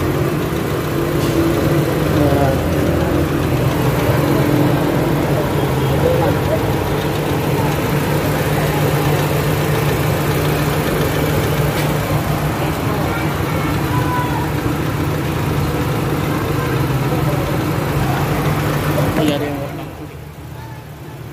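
A car engine idles steadily after an overheating fix done without an overhaul, a loud, even hum and rumble that holds constant before dropping off near the end, with a voice talking over it.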